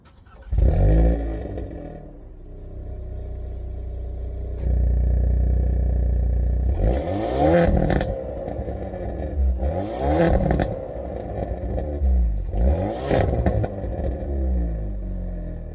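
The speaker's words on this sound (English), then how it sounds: "you should hear the exhaust note on this Veloster N line" A Hyundai Veloster N Line's exhaust burbles at idle, then barks through three sharp revs in a row, each climbing quickly and dropping back to a low rumble.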